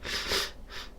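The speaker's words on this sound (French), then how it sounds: "excusez-moi, je renifle" Two quick, breathy nasal sniffs, close and fairly soft, with no other sound around them.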